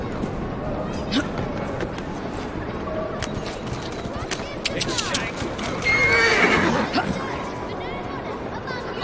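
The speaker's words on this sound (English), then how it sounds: "Should we get the horses out of there?" Horses neighing and whinnying in the video game Assassin's Creed Syndicate, with clip-clop hooves and faint crowd chatter beneath, a louder cluster of whinnies rising near the end.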